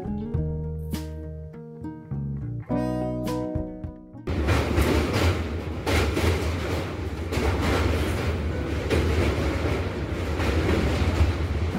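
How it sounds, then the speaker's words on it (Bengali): A passenger express train runs along the line, its wheels clattering in a steady rumbling rhythm heard from inside the coach after a short stretch of music at the start. "পাকুড় থেকে এসে ট্রেন ফরাক্কা স্টেশনে এসে পৌঁছলো"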